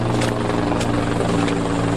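Helicopter rotor noise from emergency aircraft flying over floodwaters, a steady, loud, continuous drone with rhythmic blade thumping throughout, no voices.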